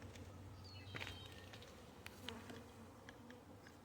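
Honeybees flying back and forth in the air around their hive, a dense continuous buzzing drone with individual bees passing close now and then, no voices.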